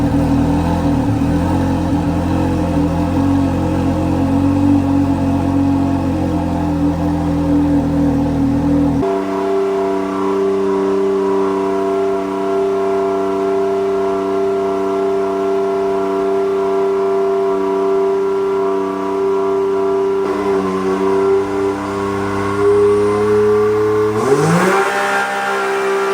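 A stock-turbo Can-Am Maverick X3 fitted with billet clutches holds a loud, steady engine drone with a whining tone. Its pitch steps up partway through and surges again near the end, close by, with no talk over it.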